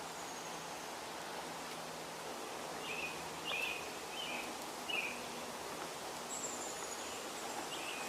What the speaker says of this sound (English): I believe I just heard a downy woodpecker, if I'm not mistaken.